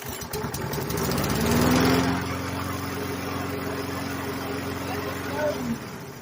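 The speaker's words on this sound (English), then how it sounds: "Now we're going to test the lawnmower to see if the cable works" A lawn mower engine, tested after fitting a new engine brake cable, starts and runs close by, a loud steady drone that surges briefly before settling, with a voice talking over it.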